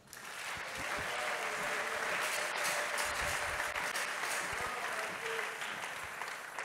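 A church congregation applauds together during a French-language worship service, the clapping sustained and fairly dense throughout, with no speech over it.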